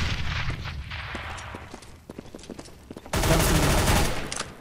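Rapid bursts of MP7 submachine gun fire in CS:GO, loud and close, broken by short gaps, then a dense sustained volley near the end.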